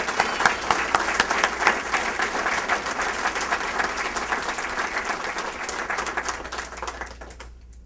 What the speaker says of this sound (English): Please, a round of applause for Michelle.